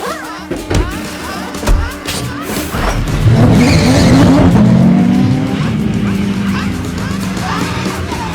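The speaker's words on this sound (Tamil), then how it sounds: "சானி ஹேஸோட போர்ஷே திரும்ப களத்துல இறக்கிருக்காரு" Porsche race car at high speed on a racing circuit at night, its engine roaring loudly and rising in pitch as it passes close by, with tire squeal and other cars sweeping past.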